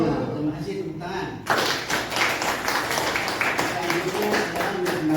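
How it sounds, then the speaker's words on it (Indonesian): Applause from a class in a lecture room comes in after a spoken line and then settles into a steady, moderately loud patter of hand claps lasting several seconds, with some voices mixed in. "Terima kasih, tepuk tangan."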